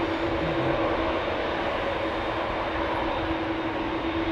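Boeing 747-8 airliner taking off at Amsterdam Schiphol, a loud continuous engine roar with a steady tonal whine, unbroken and sustained, no voices.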